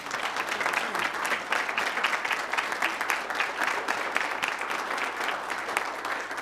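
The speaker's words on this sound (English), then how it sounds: "So let's give them a round of applause." Steady applause fills a city council meeting chamber as the room claps for volunteers, a continuous moderate patter of many hands with no voices on top.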